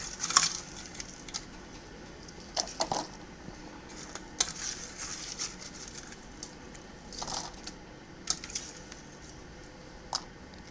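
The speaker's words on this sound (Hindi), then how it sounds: "इसमें बर्फ़ डालेंगे अब।" Ice cubes drop into a homemade lassi of milk and curd, giving sharp clinks and soft splashes at irregular intervals, close and fairly quiet.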